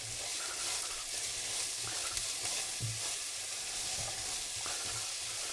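Onions sprinkled with salt fry steadily in a pan while cooking keema pasta, making a constant hissing sizzle. Faint stirring bumps sound now and then, with no voice.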